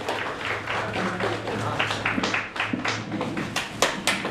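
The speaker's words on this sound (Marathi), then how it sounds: "जोरदार टाळ्यांनी स्वागत होऊन जाऊ दे." Applause welcoming Rajesh Lotankar at a general body meeting of Jageshwar SRA housing society in Shivdi: scattered, uneven claps over a low steady hum, thickening toward the end.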